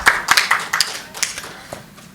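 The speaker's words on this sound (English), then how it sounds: "Please still, let's give her a huge round of applause." Sparse, fading handclaps from a small audience at a gynaecology and fertility awards ceremony in Mumbai, a few distinct claps in a loose rhythm dying away within two seconds, with no talk.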